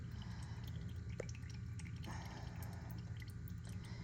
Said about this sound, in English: There is the transmission fluid